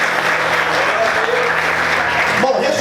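A church congregation claps in sustained applause for a few seconds, a dense wash of hands that fades at the end, with a preacher's voice carrying over it.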